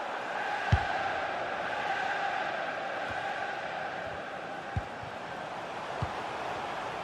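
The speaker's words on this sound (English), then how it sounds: "listen to that noise. The crowd can sense something" Football stadium crowd roar building during corner kicks at a Liverpool v Fulham Carabao Cup semi-final, a steady broad wash of massed voices with a few sharp thumps and claps poking through, distant and continuous.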